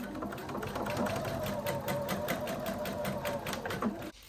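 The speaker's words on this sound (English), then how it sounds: "We're just going to sew a 1 centimetre seam down one of the short ends." A sewing machine stitching a 1 cm seam down the short end of a skirt tie, a fast, even needle rattle running steadily for about four seconds before stopping abruptly.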